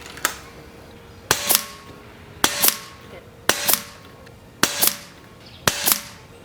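An air rifle fires JTS 16 grain pellets in six sharp, evenly spaced shots about a second apart, each a loud crack followed by a quick echo or pellet impact, with quiet room tone between.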